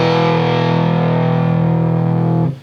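A distorted electric guitar rings out a chord riff, loud and sustained with heavy effects, then is cut off abruptly as a hand mutes the strings.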